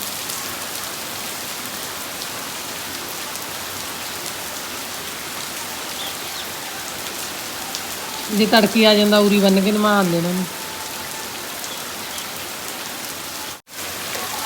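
Steady rain falls on a surface throughout, a dense even patter, with someone speaking briefly partway through.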